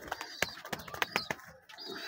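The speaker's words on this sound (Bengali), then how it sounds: "আমার কবুতরের খামারের বর্তমান অবস্থা খুবই ভালো।" Pigeons cooing in a pigeon farm, a run of soft, close calls repeating in short bursts with little pause between them, carrying on steadily with no voices over them.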